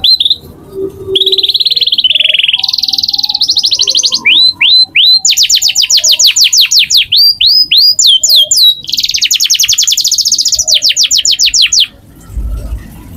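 A canary from Central Java sings loudly and close at a bird stall, pouring out rapid trills, sweeping whistles and bursts of chattering notes with only short pauses, alone without talk.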